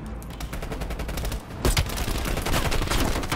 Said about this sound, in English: okay, so full machine gun here